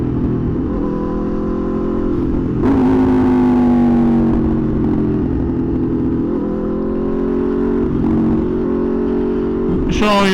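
A 2020 Aprilia RSV4 1100 Factory sport bike's engine drones steadily up close while riding, its pitch rising and falling through the gears, with a sharp rev surge near the end and talk over it.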